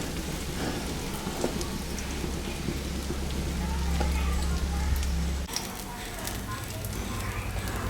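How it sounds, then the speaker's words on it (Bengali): Another crumb-coated fish piece frying in hot oil gives a continuous crackling sizzle, like light rain, with a low hum beneath and a soft voice now and then. "আর একটা আমি ভাজতে দিলাম"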